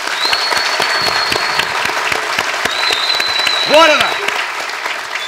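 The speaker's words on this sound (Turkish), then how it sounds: "Alkışlarla." Studio audience applause at the close of a Turkish comedy talk show, Rabarba Talk, steady dense clapping throughout with a voice speaking briefly over it and a high whistle-like tone above the crowd.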